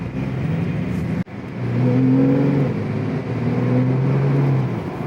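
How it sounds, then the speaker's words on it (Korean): A 2018 Porsche 911 Carrera (991) engine revs up twice in rising, throaty pulls, exhaust growling loudly after a sharp click, close and alone. "스포츠하고 스포츠 플러스도 상당한 차이가 있네요. 엑셀 반응이라든가 일단 배기음도 굉장히 소리의 크기에 차이가 있고"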